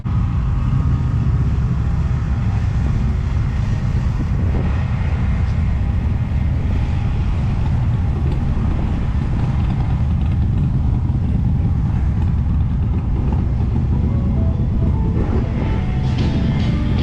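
A group of motorcycles rides past at close range on a Saturday outing in Wisconsin, a loud, continuous engine roar and rumble that stays heavy throughout with no talking.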